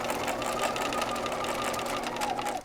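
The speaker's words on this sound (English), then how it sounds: "And I'm just going to keep basting all the way around this sleeve." A sewing machine running basting stitches around a sleeve, a continuous close mechanical whir with a fast rhythmic needle clatter that slows slightly before stopping at the end.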